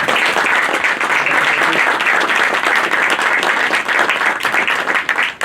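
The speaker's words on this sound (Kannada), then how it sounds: "ಹೆಮ್ಮೆಯ ನಿರ್ದೇಶಕರು ಹೇಮಂತ್ ರಾವ್ ಸರ್ ಅವರನ್ನ ಜೋರಾದ ಚಪ್ಪಾಳೆಯೊಂದಿಗೆ ಸ್ವಾಗತಿಸಬೇಕು ಅಂತ ಹೇಳಿ ವಿನಂತಿಸ್ತಾ ಇದ್ವಿ" Loud, sustained applause from an audience welcoming film director Hemanth Rao onto the stage at the Saramsha trailer launch, thick continuous clapping from many hands that thins slightly near the end.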